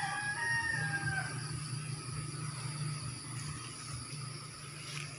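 Chickens in a home garden, a rooster's crow rising over the first second or so, then softer clucking and yard noise at moderate distance with no talking.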